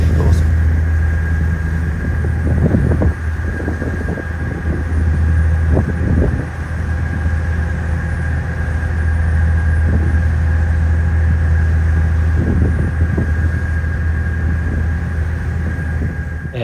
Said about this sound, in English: Again, another beautiful ferry crossing.